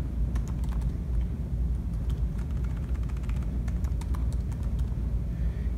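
Quick, light clicks of a computer keyboard are close and clear as a password is typed into a software dashboard, with irregular keystrokes over a low background hum and no talking.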